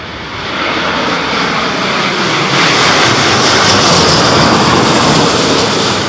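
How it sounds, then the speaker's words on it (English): The loud, continuous roar of Boeing 787 Dreamliner jet engines at Heathrow in stormy, windy weather grows heavier as the aircraft nears, with no voices over it. "Sounds like a set of Dreamliner engines."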